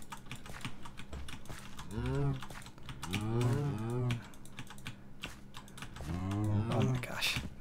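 Cows moo in Minecraft, giving three drawn-out, wavering moos. Rapid keyboard typing and clicking runs underneath throughout.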